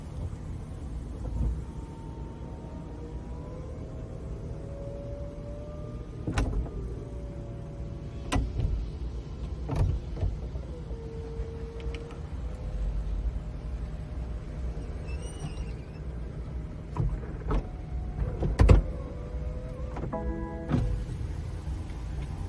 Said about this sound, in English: using our convertible roof button, we can attach our roof